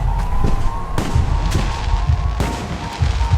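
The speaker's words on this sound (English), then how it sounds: "The noise from those fireworks should cover the sound of gunfire." Fireworks bursting in the spy video game Alpha Protocol: several loud, sharp explosions at irregular intervals, each cracking over a steady rumbling background din.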